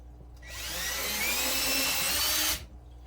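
A power drill whines up, bores steadily for about two seconds, then winds down, drilling into a 55-gallon neocaridina shrimp tank during a build, close and fairly loud with no talk.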